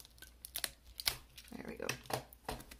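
Cellophane wrap crackling and tearing as it is pulled off a deluxe leatherbound edition book, sharp crinkly bursts coming close and loud between bits of a voice.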